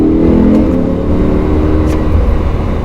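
A Lamborghini Huracan accelerates on the Circuit du Laquais race track, with a loud, steady engine roar and whirring drivetrain heard close from inside the car, and no voices.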